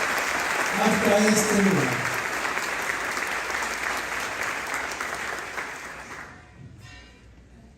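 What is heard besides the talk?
congregation applause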